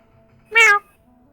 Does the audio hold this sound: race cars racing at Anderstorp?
no